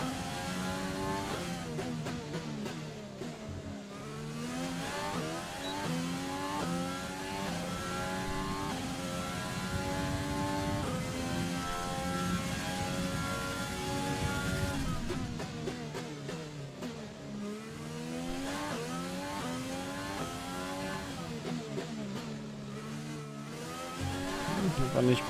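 A race car in the F1 2020 video game at the Baku circuit in Azerbaijan shifts and accelerates repeatedly, its high engine whine rising and dropping through gears, loud and continuous with no talking.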